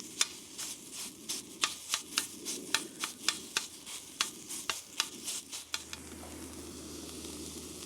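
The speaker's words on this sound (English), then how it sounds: "Then I'm gonna put the sausage on there." Sausage sizzles and fries on a griddle alongside bacon and potatoes, with a steady crackle and a run of rhythmic scraping taps from a spatula pushing the meat around, close and fairly quiet, then the sizzle continues alone.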